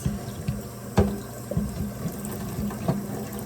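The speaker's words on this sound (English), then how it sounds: "I'm just going to wash my hands" Running tap water splashes as hands are washed with soap beneath it, a steady moderate flow broken by several sharper splashes.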